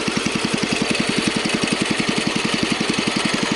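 A Kohler K141 single-cylinder engine running under load with the PTO engaged, a loud, close, steady rapid thumping chug with an even rhythm.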